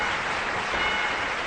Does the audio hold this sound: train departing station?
no